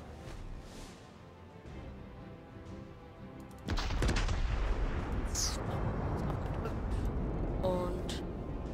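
Naval battle in World of Warships: after a quieter stretch, a heavy barrage of ship gunfire and shell impacts erupts and rumbles on continuously, with a few sharper cracks near the end.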